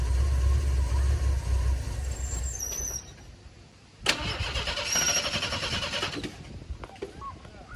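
An old Ford Bullnose engine cranks with a steady low churning for a few seconds, then catches with a sudden burst and runs roughly as the throttle is pumped, with a voice speaking nearby.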